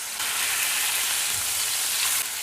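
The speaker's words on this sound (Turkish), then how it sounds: "1 dakikada bu yüzünü kızartıyoruz" Steady, dense sizzling of steak frying in butter in a hot pan, a continuous crackling hiss with no voices.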